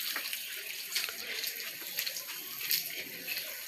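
Water runs steadily from a garden hose pipe outdoors, a continuous hissing splash filling a barrel and watering trees, close and moderately loud with no talk.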